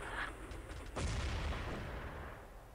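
A grenade explodes in the video game Urban Zone with a single deep, loud boom, followed by a rumbling decay that fades over the next two seconds.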